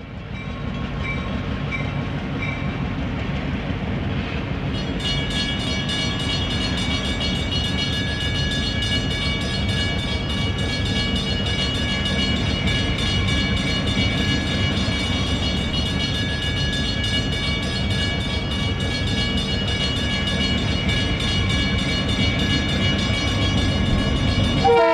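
A diesel locomotive on the Adrian & Blissfield Railroad rolls close by with a steady loud rumble, while its Leslie RS3L air horn holds sustained chord tones through most of the passage.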